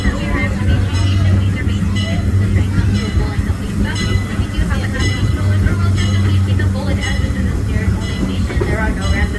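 The Disneyland Railroad train rolls into Tomorrowland Station with a steady low rumble and rhythmic clatter of wheels on track, while a voice talks faintly over it.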